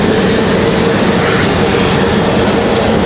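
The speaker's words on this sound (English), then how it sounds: "Our A320 just below us starting engines." Airbus A320 airliner engines starting at Raleigh-Durham International Airport produce a loud, continuous roar, steady and close, with no speech.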